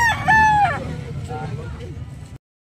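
A seven-month-old stag, a young rooster at a fowl market in Carbon, Cebu, gives one short, loud, fairly close crow at the start, followed by background bustle and people talking.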